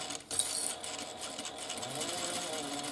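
A home sewing machine runs a steady, quiet stitching whir while backstitching a short stretch of seam on a wristlet, with a brief click near the start.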